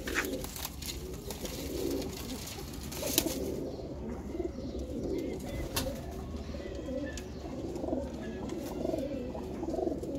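Low, soft cooing of a pigeon repeats steadily throughout, close by, with faint rustling and a few higher bird chirps in the background.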